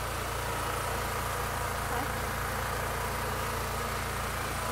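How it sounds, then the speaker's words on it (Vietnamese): A generator engine idles with a steady, even drone at moderate distance, continuous for several seconds without change in pace. "đây là cái máy nổ"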